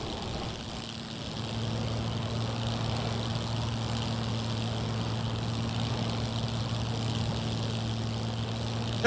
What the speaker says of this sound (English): I just want to see what it feels like to land a plane in first person only.